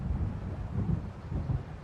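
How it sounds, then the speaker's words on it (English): Low rumbling thunder from an approaching storm by the sea in the video game Alan Wake, a continuous deep roll with swelling pulses, mixed with windy noise and no talk. "It seems there's a storm coming."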